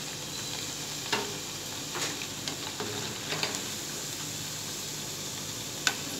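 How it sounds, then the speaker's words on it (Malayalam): Onion vadas deep fry in hot oil as they are lifted out: a soft, continuous sizzle with scattered ticks and light scraping clicks from the slotted spoon, fairly quiet and close. "അപ്പോൾ നമ്മുടെ ഉള്ളിവട റെഡി ആയിട്ടുണ്ട് വറുത്ത് കോരുകയാണ്"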